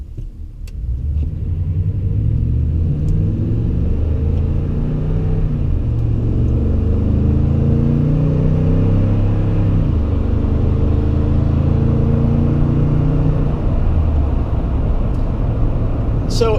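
A Toyota Tundra pickup cruises in sixth gear with a steady low engine drone and road rumble heard from inside the cab, while the driver talks over it.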